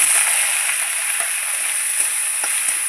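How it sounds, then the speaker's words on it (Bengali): Green beans frying in oil with black cumin and green chilli, a steady close sizzle with a few soft stir knocks and pops, no voices. "সিমটা আমি ভালো করে ভেজে নেব।"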